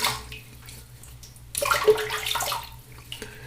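Water splashes and trickles for a few seconds onto shaving soap, louder in a burst midway, as if poured or run from a tap close by.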